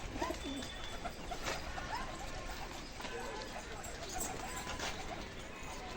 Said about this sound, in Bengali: পায়রা কিছু ওপরে আছে